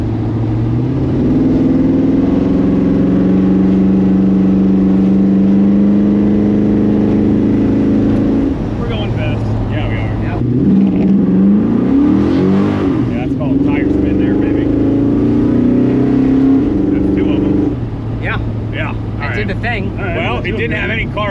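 A 600-horsepower big block V8 in a Chevrolet C10 squarebody truck drones loudly from inside the cab, holding steady and then climbing in pitch as it accelerates, with voices talking over it.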